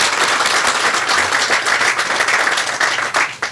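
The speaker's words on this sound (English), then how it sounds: "Give him a round of applause." An audience at a company groundbreaking ceremony applauds steadily and fairly loudly for several seconds, with many hands clapping at once before the clapping starts to thin at the end.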